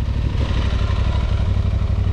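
An Aprilia Tuareg 660 motorcycle engine runs with a steady, loud low-pitched rumble and throb, close by, after an off-road trail ride.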